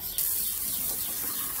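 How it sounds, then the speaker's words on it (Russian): Hose spray watering garden plants, a steady close hiss of spraying water that starts abruptly and runs without a break. "чуток вот здесь тоже польем."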